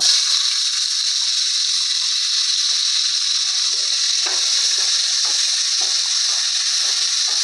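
Chopped onions frying with bay leaves, dried chilli and cumin in hot oil, a constant dense hiss and sizzle with small crackles popping through, steady and close for the whole stretch.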